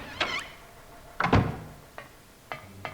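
Door opening in the horror video game Silent Hill, heard as a few heavy thunks and clunks: a sharp knock, a louder creaking thud with a low boom, then softer latch-like clicks, with no talking.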